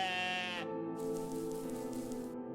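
A goat bleats in the video game OneShot: a long, wavering, tonal bleat that shifts pitch partway through, loud and close, with no voices.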